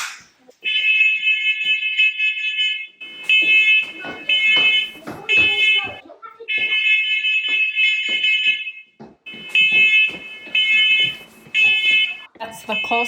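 A First Alert smoke alarm sounds during a home fire drill, giving loud, shrill beeps in repeated bursts with short gaps. People talk between and over the bursts.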